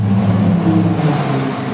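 A 2003 Hyundai Tiburon SE with a V6 engine, heard as a loud, steady engine drone close by with a low rumbling hum and no voices.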